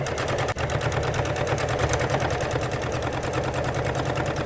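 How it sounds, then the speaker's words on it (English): A sewing machine hems fabric lining pieces, running in a steady, fast continuous rattle from start to finish, close and loud with no talking. "I'm just going to sew to hem both these lining pieces"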